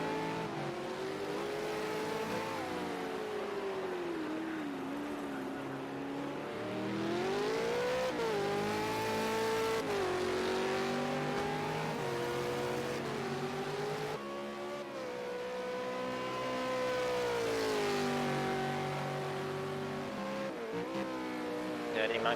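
V8 Supercars lapping Monza in Project CARS 2 on PS4, engines revving and shifting continuously with rising and falling pitch, loud and steady under a commentator's talk.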